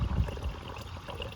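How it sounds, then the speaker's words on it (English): Coolant bubbles and gurgles as it is poured into a 2007 Cadillac DTS cooling system after a water pump replacement, a soft, close liquid burble with a few louder glugs at the start. "Oh, now we're starting to bubble."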